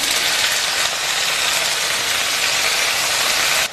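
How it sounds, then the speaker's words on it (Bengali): Marinated okra hits hot oil in a wok and sets off a loud, dense, continuous sizzle that holds steady for several seconds before abruptly dropping away. "এবার আমি ঢ্যাঁড়সগুলোকে গরম তেলের মধ্যে দিয়ে দিচ্ছি।"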